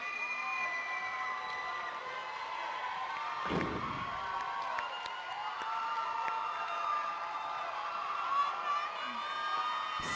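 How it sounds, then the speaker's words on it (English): A standing ovation from the crowd at a girls high school basketball game, Denver South at Denver East, in a gym: sustained cheering and crowd noise throughout, with a few brief thuds and shouts. "Standing ovation by the crowd here for the East seniors. Everyone is cheering for the Angels"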